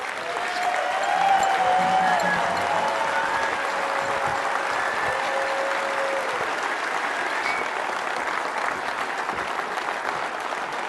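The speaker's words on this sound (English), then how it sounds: "So please help me give a huge round of applause to my parents, Carmina and Antonio Alves." An audience applauds for about eleven seconds in a sustained, dense round of clapping that starts strong and gradually eases, with scattered cheers and voices mixed in.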